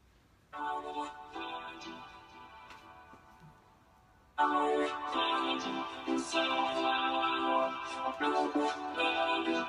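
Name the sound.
vocoder harmony vocals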